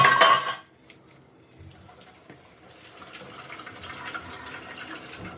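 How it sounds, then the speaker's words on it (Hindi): Tap water gushes loudly into an Indian kitchen sink for a moment, then cuts off, leaving quiet clinks of dishes being scrubbed with gloved hands. "इसलिए मैं रात को बर्तन धो के ही सोती हूँ।"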